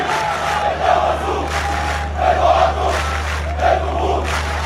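Al Ahly football fans in a stadium chant in unison, a massed crowd roar rising and falling in rhythmic waves, loud and reverberant, with a steady low hum beneath it.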